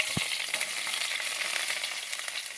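Garlic and ginger sizzle in hot sesame oil with mustard seeds and urad dal, a steady close crackling hiss with a soft knock near the start, for a rambutan pickle.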